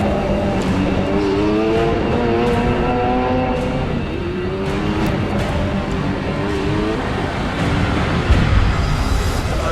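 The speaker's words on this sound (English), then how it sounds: "3 cars coming down the road fast" Three cars race fast down a road during a film shoot, a loud, close engine roar that holds steady throughout with rising and falling revving tones.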